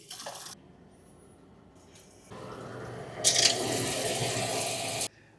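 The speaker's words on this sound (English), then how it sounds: "Rinse number 1, pumps on," Water rushes steadily from an RV pump into the fresh water tank during a rinse. The flow starts partway through after quiet handling noises, grows louder for a moment, then holds as a constant hiss before cutting off.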